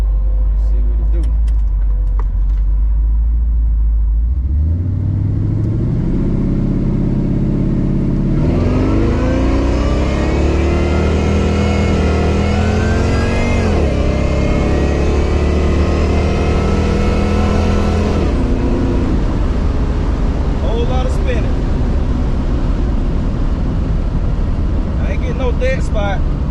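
A Chevrolet Cutlass engine revs hard during a test launch with heavy wheelspin, climbing through several loud stepped pitch rises and holding a raw roar before it drops away, close and continuous.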